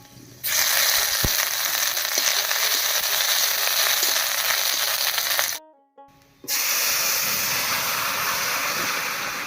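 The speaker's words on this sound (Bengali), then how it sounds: "তেলের মধ্যে দিয়ে দিচ্ছি দুটো শুকনো লঙ্কা হাফ চামচ মতো পাঁচ ফোড়ন কুচি করা একটু আদা" Dry red chillies, panch phoron and chopped ginger sizzling in hot oil: a loud, dense frying crackle that goes on and on, stops briefly, then picks up again just as strongly.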